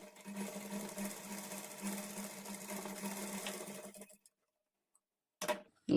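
A sewing machine stitches a blouse seam at a quarter-inch margin, running steadily and close for about four seconds with a regular ticking hum, then stops; a brief burst of handling noise follows.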